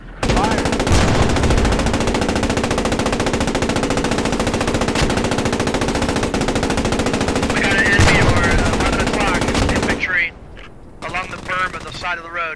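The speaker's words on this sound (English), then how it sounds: "Keep those guns going." Tank machine guns firing in the World War II shooter Post Scriptum; a loud, continuous rattling burst lasting about ten seconds, then a sudden cut to quieter rumbling while a voice speaks.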